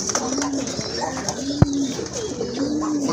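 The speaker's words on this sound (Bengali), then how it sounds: "রাজগোল্লা কবুতর এত সুন্দর।" A Rajgolla pigeon cooing up close, repeating soft, low, rolling coos at an even pace, with some background noise.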